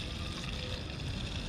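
Water pours into a foam cannon bottle already holding Chemical Guys Honeydew Snow Foam, making a faint, steady rushing gurgle that lasts through the brief moment with no voices.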